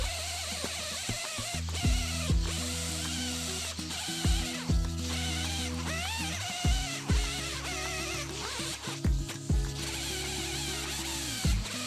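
A power tool grinds away an old weld on a metal garden gnome in a workshop, loud whirring bursts that start and stop repeatedly, close up with no talking.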